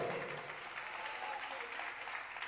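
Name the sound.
congregation applause in church service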